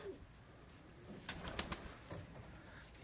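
Pigeons in a loft, including one of the oldest cocks, give faint soft coos and a few light flutters over a quiet room hum, with some brief sharper sounds midway.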